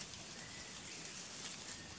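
Steady rain falls, a dense unbroken hiss of drops that stays even and fairly close throughout, with no voices.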